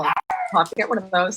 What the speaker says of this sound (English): The dogs are going crazy here today.